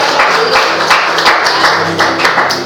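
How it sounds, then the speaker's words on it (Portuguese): A church congregation applauds in praise, a dense, steady wash of many hands clapping close by with sharp individual claps standing out, continuous for a few seconds. "Você pode aplaudir a Deus por essa palavra?"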